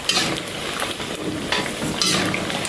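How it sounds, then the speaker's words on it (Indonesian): Peanut crackers (peyek) frying in very hot oil, giving a dense, steady crackling sizzle with brief louder bursts, close by and continuous with no talking. "masukkan peyek di minyak yang sangat panas agar peyeknya tidak menyerap minyak"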